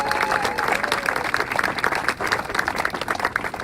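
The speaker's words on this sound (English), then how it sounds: "Let's give them a round of applause" A room at a bill signing breaks into applause, a lively sustained patter of many hands clapping at moderate loudness with no voices over it.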